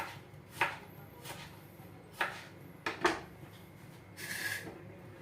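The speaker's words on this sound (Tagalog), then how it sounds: "inihiwa ko muna ngayon yung kamatis" Tomatoes being chopped with a knife on a board for a fried tilapia sarciado, giving four or five separate crisp thunks spaced unevenly, close against a quiet kitchen hum.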